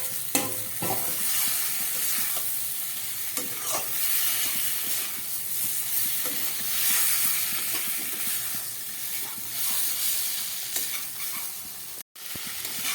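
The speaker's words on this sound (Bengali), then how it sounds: "এবার দিয়ে দিচ্ছি ভেজে রাখা আলুটা।" Fried potatoes are stirred into a sizzling prawn curry in a pan, giving a steady hiss of frying with scraping stir strokes throughout. There is no talking.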